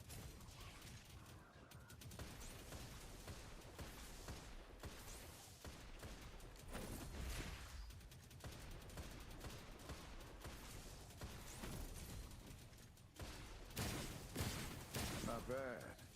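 Dense video game gunfire fills the scene in F2P Pulling Kabr, volleys of shots rattling on and off without pause. Louder bursts come near the end over a busy game soundtrack.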